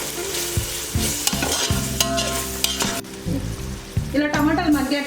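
Tomatoes and onions sizzle in a pan for jackfruit biryani while being stirred, with repeated scraping strokes over a continuous frying hiss, close and fairly loud.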